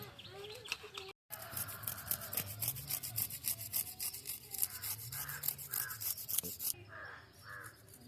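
A knife scrapes scales from a whole fish in a home kitchen, a quick rough rasping in irregular bursts, close and fairly loud, with crows cawing nearby and voices chatting in the background.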